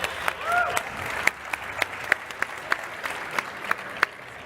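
Scattered, uneven clapping from a small group, with individual claps standing out as sharp isolated hits, and a brief voice near the start.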